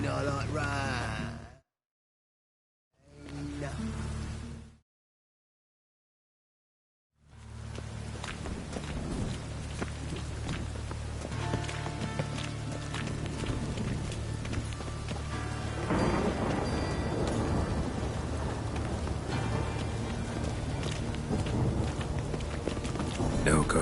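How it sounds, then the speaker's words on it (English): A Witcher 3 game scene with steady falling rain and low rumbling thunder, building to a dense, continuous wash of rain after brief dropouts at the start; low talk and game sounds sit under it. "Rain, I like rain."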